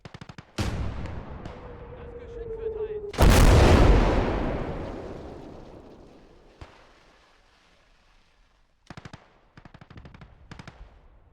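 Mortar and gunfire in the World War II strategy game Call to Arms Gates of Hell, Ostfront USSR versus Germany battle: a sharp blast, a heavy booming impact with long decay, then scattered rapid gunshots in the distance.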